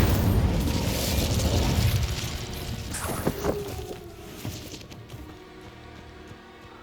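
A fire spell explodes in Hogwarts Legacy, opening with a loud, broad blast that rumbles and fades over about two seconds, followed by a few softer thumps and crackles.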